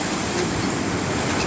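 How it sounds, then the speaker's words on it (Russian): Black Sea surf in February roars as a steady, dense wash of breaking waves, loud and continuous with no talk over it. "Здорово, море шумит."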